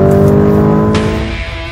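Lamborghini Urus SUV accelerating hard on a race track, a loud close engine roar with rich harmonic tone, sustained and slowly fading as it pulls away.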